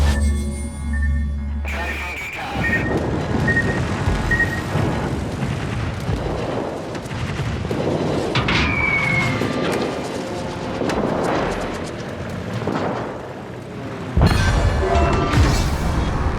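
Explosions and booming blasts in the World of Warships video game as an enemy fighter plane is destroyed, with sonar-like pings, a sweeping tonal whine and rumbling impacts under occasional voices.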